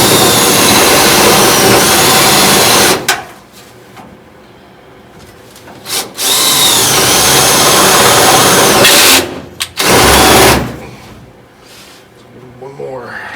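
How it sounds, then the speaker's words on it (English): A power drill boring plug weld holes in the frame rail of a 1970 Dodge Challenger, loud whining bursts of several seconds each, separated by quieter gaps. "Just drilling a couple of plug weld holes here to bring this end cap down to the frame support."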